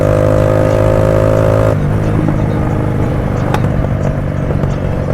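A motorcycle engine revs loudly and steadily up close, then its tone shifts into rougher running with scattered sharp exhaust pops and crackles.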